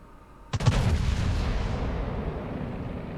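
Torpedo hits explode against a Bismarck battleship in World of Warships: a sudden loud blast followed by a long rumbling, crackling decay, with no voices.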